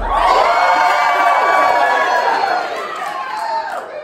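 A group cheers together in a loud, sustained burst of shouting and whoops from many voices at close range, fading slightly toward the end.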